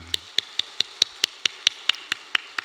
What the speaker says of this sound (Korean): 하나님께 영광의 박수 하겠습니다